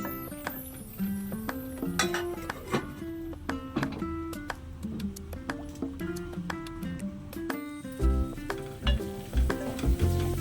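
Masala paste frying in oil on a low flame and being stirred, with a soft continuous sizzle under repeated spatula scrapes and clinks against the pan at an uneven rhythm, with no speech.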